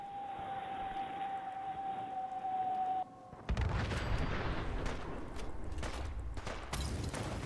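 Bombs exploding in Fallout 4 with the Sim Settlements 2 mod: a steady tone gives way to a loud, dense roar of blasts and rumbling debris that continues for several seconds.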